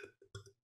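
A single deliberate burp forced up on command, short and low with a throaty rasp, broken into two or three quick gulping pulses, close and alone with no talking.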